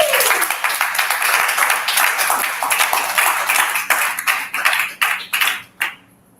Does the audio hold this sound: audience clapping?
yes